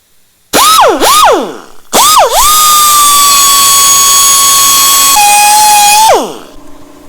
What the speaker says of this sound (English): Now I put some oil on the carbide bit so that the aluminum will not stick on the bit.